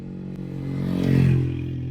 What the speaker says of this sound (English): there are motorcycles and dirt bikes everywhere